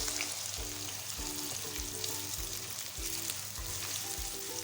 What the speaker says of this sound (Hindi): हमें प्याज को इतना फ्राई करना है कि प्याज को अच्छा सा गोल्डन कलर आ जाए